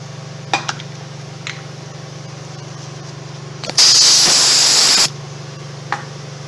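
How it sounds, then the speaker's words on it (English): Brake cleaner sprays onto a semi tire in one loud, continuous hiss lasting over a second, set against a steady engine hum with a few faint clinks before and after. "I'm going to clean it with some brake cleaner."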